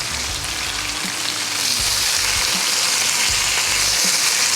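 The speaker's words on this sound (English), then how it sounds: "it's time for the bacon. I got all this bacon on." Bacon frying on a Blackstone griddle, a loud, dense, continuous sizzle with fine crackling pops throughout, no voices over it.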